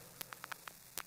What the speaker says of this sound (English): I will start with the vinyl distortion on an audio track.